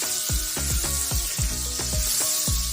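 Butter melts in hot canola oil in a pan, making a constant close sizzle broken by a rhythm of soft popping crackles, with no voices.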